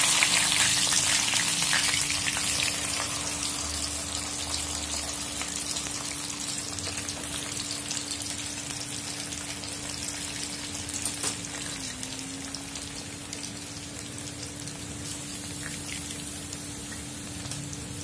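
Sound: cauliflower pieces frying in hot oil

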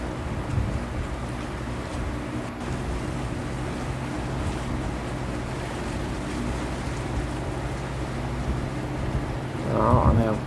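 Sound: fishing boat on the water

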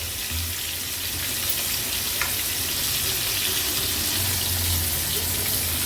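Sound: silver croaker fish frying in oil

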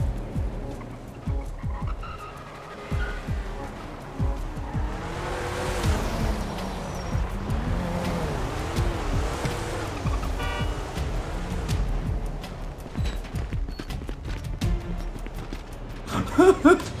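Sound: car driving and skidding in video game GTA

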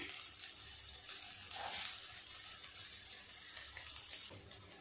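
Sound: vegetables frying and stirring in a pan with sugar

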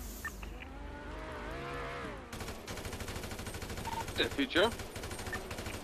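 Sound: gunfire in the GTA V video game

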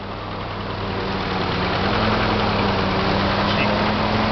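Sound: military Jeep engine idling

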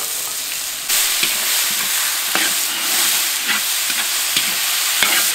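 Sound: stir-frying beef with Pixian broad bean paste in wok

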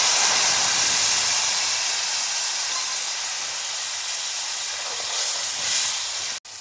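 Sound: prepared masala added to hot oil tempering, sizzling

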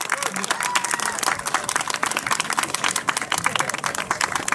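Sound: audience cheering and applauding at trials award ceremony

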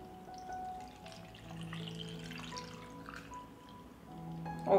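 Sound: salted whey poured into a glass jar

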